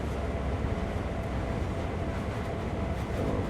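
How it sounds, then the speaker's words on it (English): A train in the Train Sim World 2 video game rumbles along at close range, a dense, steady low drone with no talking. "So we'll bring our train back out."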